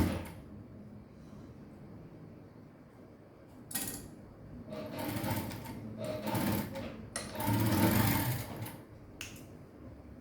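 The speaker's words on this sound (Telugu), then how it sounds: "ఇక్కడ డబల్ స్టిచ్ ఇవ్వండి" Sewing machine running double rows of stitching on a princess-cut blouse, bursts of motor whir starting and stopping at close range, louder toward the end, with no talk.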